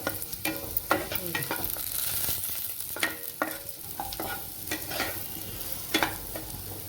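Sweet potato slices fry in a spoonful of ghee in a pan, crackling and sizzling steadily while being stirred, with scraping clicks spread throughout.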